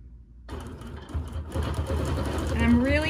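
Domestic sewing machine stitching free-motion quilting, the quilt pressed hard against the presser foot; a steady, close mechanical whir begins after a short silence and speeds up toward the end, with a voice talking over it.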